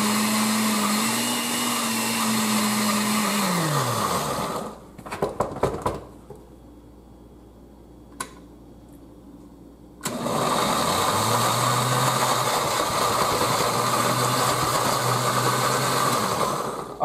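A kitchen blender pulses diced vegetables and drained Rotel tomatoes for homemade salsa in two loud, steady motor bursts, the first winding down as the pitch drops, then a quiet pause with a few clatters before the second burst.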